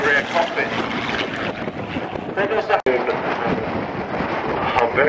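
Strong wind buffets an airfield with loud continuous rushing and microphone rumble, while someone talks through it.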